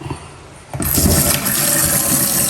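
Toilet flushing in a small tiny-home cabin bathroom beside the shower, a loud close rushing gush that starts abruptly after a quiet moment and keeps pouring steadily to the end, with no voices.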